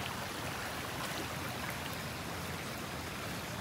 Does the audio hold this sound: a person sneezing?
no